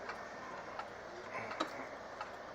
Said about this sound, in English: It's a beautiful banjo clock